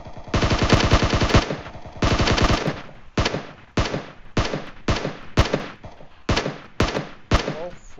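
Rapid bursts of automatic gunfire from the video game PUBG, several long volleys followed by shorter separated bursts, loud and close.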